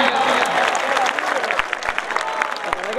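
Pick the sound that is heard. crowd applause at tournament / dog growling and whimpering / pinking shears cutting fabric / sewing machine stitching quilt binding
crowd applause at tournament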